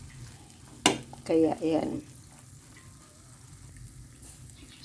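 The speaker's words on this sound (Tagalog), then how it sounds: "Haluin lang natin ng maigi. Sobrang lagkit niya kasi." A sticky mixture cooking in a pan is stirred in a few scraping passes with faint sizzling, then the pan quiets down; someone speaks briefly over it.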